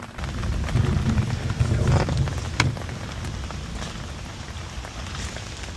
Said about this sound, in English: with the inevitable rain having set in